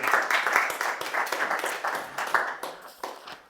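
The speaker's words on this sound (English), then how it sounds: "We got claps." Applause from an audience at a community event, a dense, steady patter of many hands clapping nearby for a few seconds before tapering slightly toward the end.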